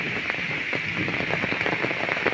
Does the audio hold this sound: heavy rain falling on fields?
yes